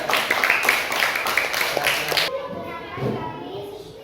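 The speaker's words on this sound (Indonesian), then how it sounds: "Beri tepuk tangan untuk kelompok 2" Schoolchildren clap for a classmate group in a classroom, a short burst of mixed hand claps and voices that cuts off sharply partway through, leaving quieter chatter.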